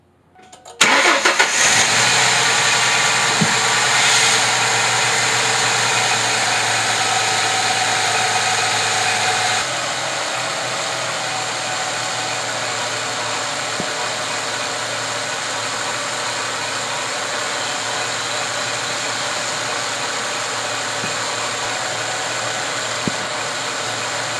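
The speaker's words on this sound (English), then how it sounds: "I'm going to go ahead and start the car" A Ford Mustang engine cranks and fires, then settles into a steady, loud idle that drops slightly in pitch and level partway through and holds there. No one speaks over the running engine.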